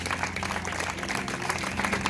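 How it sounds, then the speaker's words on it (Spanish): A church congregation applauds at a night service, a dense, steady patter of many hands clapping together from a moderate distance. "¿Cuántos le dan un aplauso al Señor en esta noche?"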